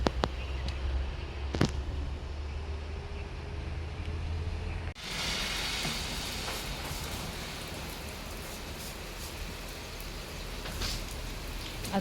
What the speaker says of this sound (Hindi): वहाँ पहाड़ पे देखिए कितनी तेज़ बारिश हो रही है और उधर सड़क पे भी।